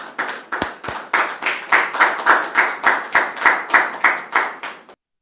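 A talk show studio audience on Point d'Accord claps to welcome a guest: loud, close, strongly rhythmic unison clapping in a steady beat that runs about five seconds, then stops abruptly.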